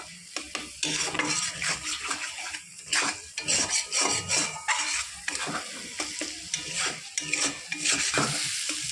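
Masala spices being stir-fried for chicken in a pan, with sizzling and repeated scraping and clattering of a spatula against metal, close and busy throughout.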